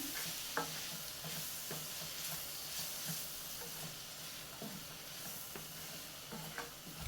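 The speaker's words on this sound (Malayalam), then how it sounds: "ഇതുപോലെ എല്ലാം കൂടെ ഒന്ന് ഇളക്കി മിക്സ് ചെയ്യാം" Spice powders sauté in a pan as a spoon stirs them, giving a soft, steady sizzle with occasional light scraping taps, faint and with no voices over it.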